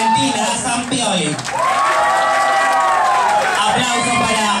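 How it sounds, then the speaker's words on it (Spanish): Audience applause for a contestant at a qualifying event, steady clapping and cheering throughout, with a voice loudly announcing over the crowd noise. "Aplausos para Valentina Sampioli."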